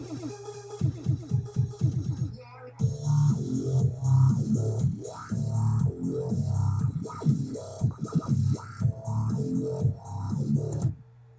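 An electronic music track built in FL Studio 10 plays alone, with a steady pounding bass beat under bright synth chords and plucky melodic figures that keep a regular rhythm for about eleven seconds.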